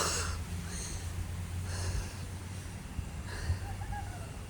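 Heavy, rhythmic panting from someone hiking uphill on the University of Hong Kong campus, breaths close to the microphone over steady outdoor background noise.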